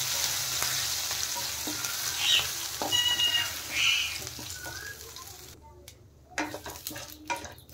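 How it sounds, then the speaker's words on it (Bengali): Whole cumin and crushed ginger fry in hot oil with dried red chilli and bay leaf as a tempering for moong dal, giving a gentle sizzle broken by scraping stirs and light clinks of a utensil against the pan. "দিয়ে দিলাম গোটা জিরে, থেতো করা আদা। মশলা একটু ভালো করে ভেজে নেব।"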